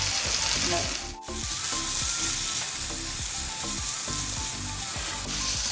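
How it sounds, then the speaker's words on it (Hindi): Onion and carrot stir-fry in a large pan for chicken fried rice, a loud steady sizzle broken by repeated scraping strokes of a spatula and one brief dip in the hiss. "अब हम इसके अंदर डाल देंगे प्याज गाजर"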